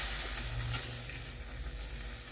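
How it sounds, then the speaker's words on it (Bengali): A small splash of water hits fried onions and spices in a hot pan, bursting into a loud, steady sizzle that gradually fades a little. "পেঁয়াজ ভাজা হয়ে গেছে, মশলা হয়ে গেছে, অল্প একটু জল দেবো।"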